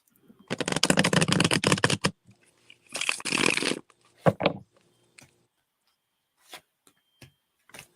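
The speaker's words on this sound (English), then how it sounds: "I'm going to take 3 more cards for you." A deck of tarot cards is shuffled in two quick riffling bursts, followed by soft scattered taps and flicks as cards are handled, close and clear in an otherwise quiet room.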